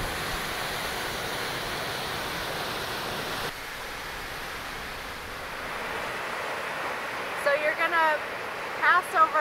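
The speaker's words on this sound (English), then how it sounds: "We're gonna see the top of the falls." Tumalo Falls near Bend, Oregon roars as a steady broadband rush of falling water heard from a trail, constant and moderately loud, with brief bird chirps and rustles near the end.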